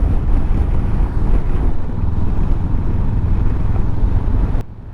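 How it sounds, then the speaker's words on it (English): Strong, blustery wind buffets the microphone on a motorcycle ride along the bay near Kotor, Montenegro, aboard a Honda CB500X, a steady loud low roar from start to finish that drops away abruptly at the very end. "Really is very blustery."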